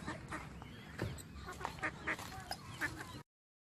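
Mallard ducks on the water at a nature reserve with nesting rafts give a run of nasal quacks in repeated bursts, fairly close and clear over a soft outdoor background.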